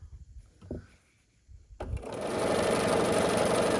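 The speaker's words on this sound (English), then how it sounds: "we're going to continue sewing down this whole rectangle" A sewing machine stitches quilt block pieces for a star or daisy block, starting after a few soft handling knocks and then running loud and continuous to the end.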